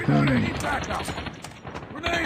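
Gunfire from Call of Duty: Mobile in a ranked match: rapid bursts of shots fill the short stretch, with a player talking over the gameplay.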